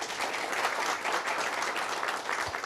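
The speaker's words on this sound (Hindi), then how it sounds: "एक बार धन्यवाद हमारे किसान भाइयों को जोरदार तालियों के साथ।" Steady applause from an audience at a farmer-scientist dialogue on profitable livestock rearing at CSWRI Avikanagar, thanking the farmers; dense, even clapping fills the whole stretch without a break.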